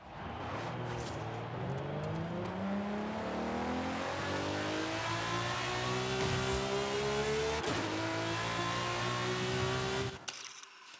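A 2012 Lamborghini Aventador LP drifting in Forza Horizon 5, its V12 engine roaring loud and close as the revs climb and hold high, with brief gear-change dips, before cutting off abruptly near the end.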